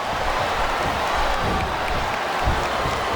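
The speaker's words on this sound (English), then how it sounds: "And the crowd has come alive tonight with a chant directed at the superstars in the ring." Steady, dense arena crowd noise in the WWE SmackDown vs Raw 2008 video game during a Theodore Long vs Rey Mysterio submission match, a loud continuous roar with a chanting feel and no clear commentary over it.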